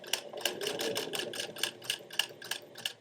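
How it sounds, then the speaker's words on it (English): A sewing machine top stitching thick black denim jeans, a close, steady mechanical chatter of evenly spaced needle strokes, about three per second, running continuously with no voices. "My machine is struggling a little bit with this thicker gauge"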